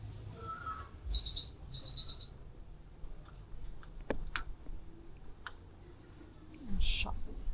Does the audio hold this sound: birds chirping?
yes